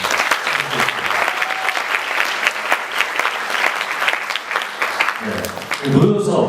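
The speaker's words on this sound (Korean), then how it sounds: "우리 박수로 한번." Audience applause in a church meeting hall fills the whole span at steady strength, dense clapping with a brief swell near the end and faint voices underneath.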